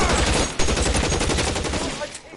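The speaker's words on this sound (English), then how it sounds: "Son of a bitch shot me!" Gunfire crackles in L.A. Noire, a dense rapid fusillade of shots ringing out almost continuously, loud and close, with one sharper report standing out early before the volley fades near the end.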